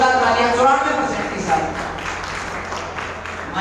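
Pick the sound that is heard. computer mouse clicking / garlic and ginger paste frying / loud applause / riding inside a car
loud applause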